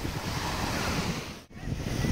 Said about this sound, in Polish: dzisiaj troszkę fale, wieje wiaterek